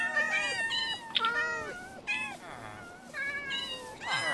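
Several Minecraft cats meow in quick succession, a string of short rising and falling mews close together, fairly loud and without talk over them.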